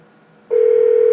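A telephone line gives a steady, loud tone that starts abruptly partway through and holds unbroken to the end, after a faint hiss.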